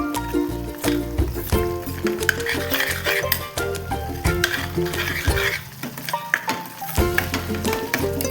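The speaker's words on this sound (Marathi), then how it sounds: "त्यात टाकणार आहोत आपण एक चमचा काळं तिखट छान असं परतून घ्यायचंय" A spoonful of black-red chilli powder masala sautéing in oil for a red chickpea curry, a continuous close sizzle broken by frequent scraping and clinking stirs against the pan.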